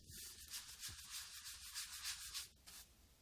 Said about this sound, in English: Rub the paint into the brush bristles, like I'm doing here